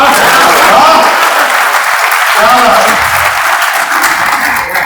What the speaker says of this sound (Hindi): फिर आपकी तालियां चाहूंगा